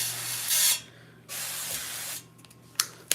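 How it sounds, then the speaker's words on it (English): Two hissing bursts of nonstick cooking spray from a can while making banana bread, close by, the second longer, followed by a couple of light clicks. "nonstick spray"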